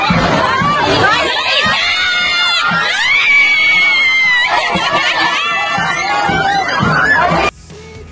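A street parade crowd in Gingoog City shouts and cheers loudly and continuously, with children's high-pitched screams rising and falling throughout before it cuts off near the end.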